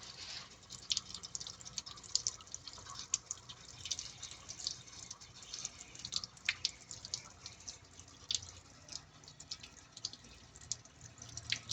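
Water trickles and drips continuously from an opened water filter housing, a steady splashy flow with small irregular gurgles, close by and fairly quiet.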